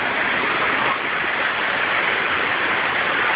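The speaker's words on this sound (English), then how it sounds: "This is the mighty waterfall we've been chasing" A rainforest waterfall in El Yunque National Forest, Puerto Rico, roars as a steady, dense rush of falling water that stays loud and unchanging throughout.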